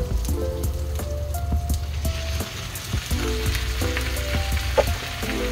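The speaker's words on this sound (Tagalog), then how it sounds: "Next, lagay na natin yung ating chicken." Twelve chicken pieces frying in a hot pan, with steady loud sizzling and crackling oil, broken by a few brief clinks and pauses, and no talking.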